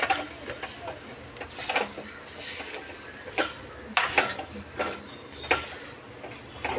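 A spoon scrapes and clinks softly against a pan while fish curry with turmeric is mixed, giving faint, irregular stirring taps and scrapes close by.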